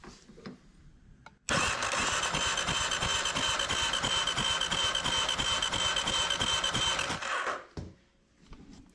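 A Kawasaki KLR 650 motorcycle engine cranks on its starter, a steady mechanical whir and chatter lasting about six seconds before it stops, with no talking.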